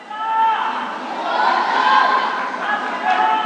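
A team manager shouts and cheers from the sideline at an amateur football match between Gozzilla SFC and Aramboy FC, his raised voice carrying over steady crowd noise and chatter for a few seconds.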